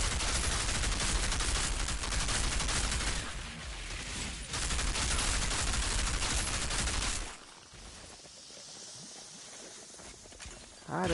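Dense, loud rifle gunfire from enemies in the video game Outriders, a continuous barrage of shots for about seven seconds, then quieter scattered sounds.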